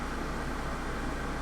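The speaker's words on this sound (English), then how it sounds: "if you hear the loud noise in the background of my voice, that's just my air conditioner in the back" Steady broadband whoosh of an air conditioner running close by, constant and unchanging with no other sounds.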